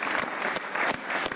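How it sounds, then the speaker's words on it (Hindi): A studio audience on a Pakistani cricket talk show applauds, brisk, dense clapping at steady volume over a brief span. "फखर जमान के लिए भी तालियां बजाना चाहता हूं,"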